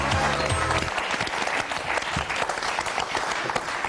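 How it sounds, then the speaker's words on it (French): A studio audience on the French game show Motus claps in dense, steady applause that holds at an even level throughout, with a brief voice at the very start. "Allez, on applaudit Marie-Christine, Nathalie, Sandrine et Charlotte."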